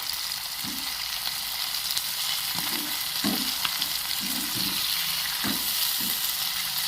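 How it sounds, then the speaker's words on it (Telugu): Spices with turmeric frying in a pan for a Telugu broad bean (chikkudukaya) masala gravy, a steady close sizzle with occasional stirring scrapes and clinks, no talk. "ఇలా వేయించుకుందాం."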